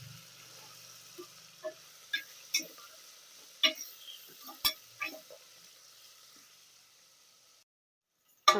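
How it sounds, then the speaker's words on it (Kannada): Paneer frying with mint and coriander in a pan, with a faint hiss of oil under a series of sparse, sharp clicks and taps from stirring, then a brief quiet pause. "ಇದ್ರ ಜೊತೆಗೇನೆ ಪನ್ನೀರ್ ಹಾಕ್ಕೊಳ್ತೀನಿ."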